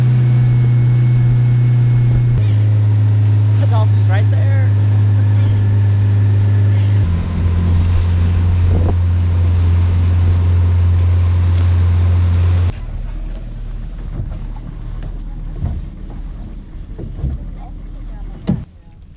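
A boat motor drones loudly and steadily on a whale watching trip near Guerrero Negro, Baja, with wind and water noise mixed in. About two-thirds of the way through it drops to a rougher, quieter rumble.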